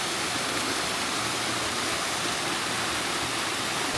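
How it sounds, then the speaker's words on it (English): Salt spring water pours from a higher ledge into a pool on a rainy day in a rural Chongqing ancient town, swollen by the rain into a loud, steady, close rushing roar with no letup. "the force of the water impact from the higher place flowing down to this pool"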